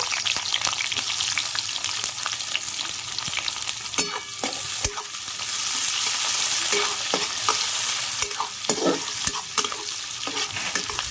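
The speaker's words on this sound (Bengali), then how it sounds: "এবার পেঁয়াজ কুচিটা দিয়ে দিলাম। পেঁয়াজটা একটু লাল লাল করে ভেজে নেব।" Chopped onions sizzle steadily in hot oil in a pan, close and continuous, with occasional scraping and stirring clicks throughout.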